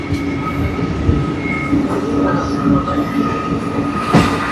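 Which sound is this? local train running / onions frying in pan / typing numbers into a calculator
local train running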